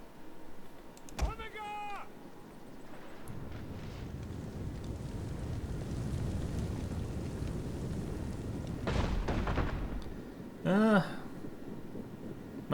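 Artillery fires during a Western Rome battle in Total War: Attila, a rumbling wash of booms and wind-like noise with a louder burst near the end and a few short chirping interface tones.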